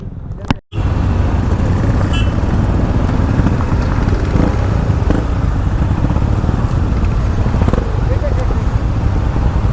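Motorcycles rumble together at an Independence Day group ride with a bikers club in Pune, engines droning loud and steady after a brief pause near the start, with a dense roadside mix of running bikes.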